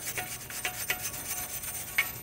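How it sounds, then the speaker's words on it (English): A wire brush scrubs back and forth against the metal wheel hub of an Audi S3 during a front brake job, giving a series of close, soft scratchy rasps with one sharper scrape near the end. "I go ahead and use a wire brush and clean up the hub"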